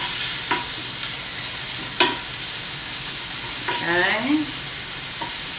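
Fingerling breakfast sausages brown in a pan with a steady, close sizzle and a few sharp clicks of stirring. A voice briefly says one word partway through.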